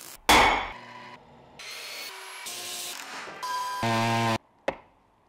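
Pferd Combiclick grinding pad working over steel, a power tool that revs up in several bursts, buzzing and whining steadily for a second or so each time, with brief pauses and a sharp knock between, no talking.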